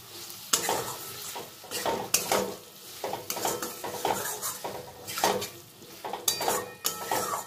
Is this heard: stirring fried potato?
yes